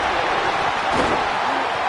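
A big tackle lands in the College Football 27 video game, a single hard, thudding slam of players colliding amid crowd and game noise, with commentary voices underneath.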